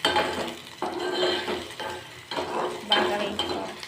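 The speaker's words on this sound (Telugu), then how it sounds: "ఉల్లిపాయలు బాగా వేయించుకోవాలి. వెల్లుల్లి రెబ్బలు కూడా వేసాను." Sliced onions and garlic cloves fry in a pan with a soft sizzle under repeated scraping and clinking of a spoon stirring against the metal, close and busy throughout.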